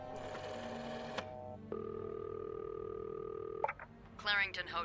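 A telephone rings in a video game with a steady electronic tone, followed by brief clicking and a sharper burst near the end, set over a low background hum.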